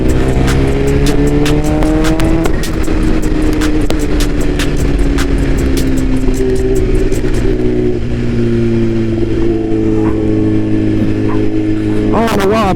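BMW motorcycle engine running continuously and loudly on a ride, with its pitch rising and falling as it accelerates and shifts through the gears, and steady wind and road noise throughout.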